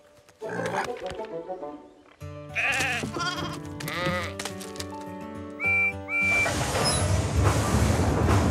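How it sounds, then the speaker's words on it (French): Several sheep bleat one after another, loud and close, escaping from a train wagon, with a bright whistle and rushing rumble joining toward the end. "un ou deux moutons s'échappent du wagon"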